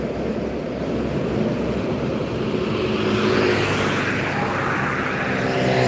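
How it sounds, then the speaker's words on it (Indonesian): Buses and trucks pass on a highway near Palembang, South Sumatra, a continuous loud rumble of heavy engines and tire roar swelling as vehicles go by close to the roadside. "Bermacam-macam merek bus dan truk yang melintas sekitar Palembang"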